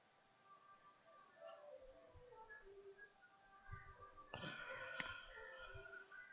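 Computer mouse clicks while working in an Excel spreadsheet, a few soft, sharp clicks near the end, faint against quiet room noise with low murmuring.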